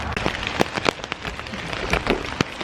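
Rain falling outdoors on a wet day, a steady hiss of drops with scattered louder splats and taps striking nearby surfaces, close and fairly loud throughout, with no voices.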